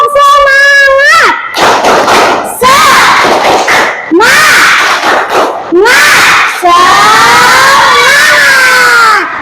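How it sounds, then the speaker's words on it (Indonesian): A classroom of students doing a spirit clapping chant, with loud group shouts and rhythmic claps in bursts, alternating with a teacher's voice leading the chant. "Kita mulai tepuk semangat."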